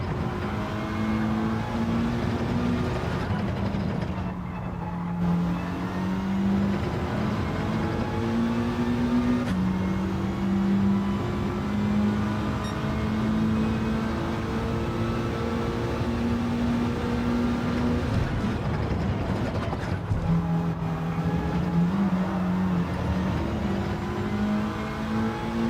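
Mitsubishi Lancer engine in the Gran Turismo 7 racing game, droning steadily through gear shifts with repeated rises and dips in pitch as it accelerates, brakes briefly and climbs again over about twenty-five seconds.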